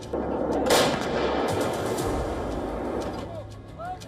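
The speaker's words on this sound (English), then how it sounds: "India called upon its Bofors guns." Bofors artillery guns fire amid rumbling, echoing booms, with a sharp blast near the start and further distant reports rolling through a dense, continuous background.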